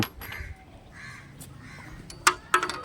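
A crow caws several times nearby, harsh nasal calls spaced through the moment, with a couple of sharper clicks and thuds near the end.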